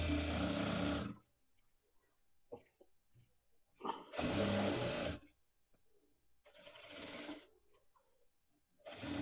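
A sewing machine stitching a ban collar kurti runs in four short bursts of fast, whirring stitches separated by quiet pauses, fairly faint and close.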